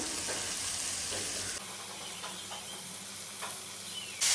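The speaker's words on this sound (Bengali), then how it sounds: "এখন এই ডুমোরটাও এই মাছ মশলার সাথে ভালো করে কষিয়ে নিব" Fig pieces being stir-fried with shrimp in a spice masala in a pan, giving a steady sizzle with a few soft stirring scrapes, close and fairly loud throughout.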